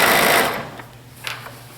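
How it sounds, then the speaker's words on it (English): A sewing machine stitching the seam allowance of a pleated blouse, a loud close burst of motor whirr that cuts off, followed by a few soft handling taps. "Those two layers of that seam allowance are being sewn to this."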